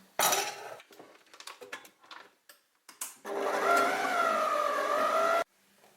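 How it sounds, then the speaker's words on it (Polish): Butter is creamed in a bowl for a quick rolled poppy seed cake: a few clinks and knocks, then a loud steady motorized whir for about two seconds that stops abruptly. "Masło ucieram."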